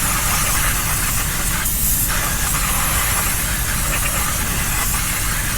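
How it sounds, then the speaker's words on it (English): Brake cleaner sprayed onto the rear brakes of a 2015 Maserati GranTurismo convertible, a steady loud continuous hiss lasting the whole stretch with no talk. "we can use again the spray"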